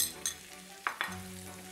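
Italian sweet sausage frying in a wok as fresh minced garlic is added, with a quiet low sizzle and a few brief clinks and scrapes of a utensil, no voices.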